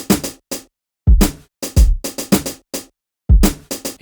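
Punchy drum hits with deep kicks and crisp snare and hat strikes play a sparse, uneven groove, each hit cut off cleanly with silence between.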